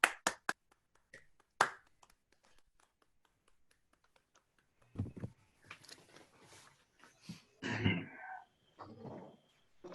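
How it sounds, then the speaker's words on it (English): A few isolated hand claps during an online Rotary Club meeting welcoming a new member, sparse and sharp over near silence, followed by quiet voices. "Let's give David a warm welcome and applause"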